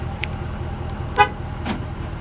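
A 2014 Ram 1500 Sport gives a short horn chirp as the truck locks, a single brief toot followed by a fainter echo-like blip, heard close over quiet outdoor background.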